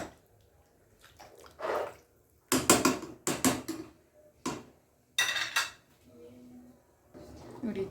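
Kushka rice mixture is stirred in a pot before being brought to a boil, giving scattered clinks and scrapes of a spoon against metal in irregular bursts, with quiet pauses between.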